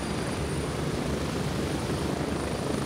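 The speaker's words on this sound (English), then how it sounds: "I can't hear you over the helicopter." Helicopter rotor and engine noise in the survival video game Rust, a steady, loud, broadband whir that continues without a break across the whole moment, with no voices over it.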